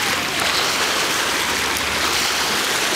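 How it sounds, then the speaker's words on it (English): Waves wash onto a beach in a broad, steady rushing hiss, close and continuous for a few seconds with no voices over it. "Sage loves the waves on the beach."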